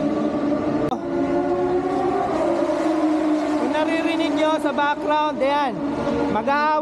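Loud engine exhausts of MotoGP racing motorcycles roar and whine past nearby at the Malaysian MotoGP, rising and falling in pitch, with a person talking excitedly over the din.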